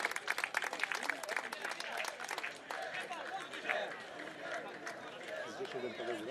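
Faint, distant crowd applause in the stands at a lower-league football match between Świt Nowy Dwór Mazowiecki and Legionovia Legionowo as a substituted player leaves the pitch, a scattered clapping texture heard under continuous talk.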